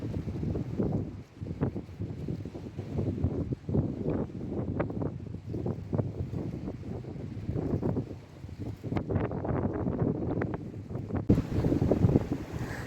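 Strong wind gusting across an open-air seawater pool, a constant roaring rush with microphone buffeting throughout, no voices.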